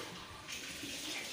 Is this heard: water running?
yes